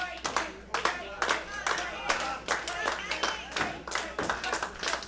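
Wrestling crowd at a WrestlePro Gold Championship match clapping in a steady rhythmic beat to cheer on the champion, a dense hall of hands with crowd voices mixed underneath.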